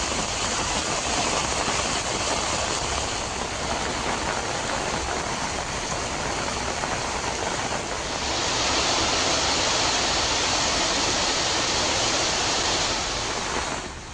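Heavy rain pours steadily in Mayiladuthurai on its second straight day, a dense continuous hiss that grows slightly louder midway and carries on without a break or any talk.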